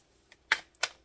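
Tarot cards being shuffled give two crisp, snappy card riffles, close and quiet, with a faint tap before them and otherwise near silence.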